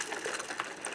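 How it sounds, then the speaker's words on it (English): A toy vehicle with a blown transmission grinds its gears in a fast, rough ratcheting chatter, fairly faint and continuous, with no voices. "it'll sit there on the floor and just grind gears."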